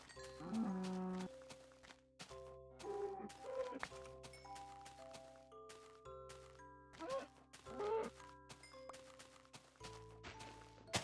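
Cows moo repeatedly in Minecraft, with several low drawn-out calls overlapping a steady backdrop of soft game music and tones.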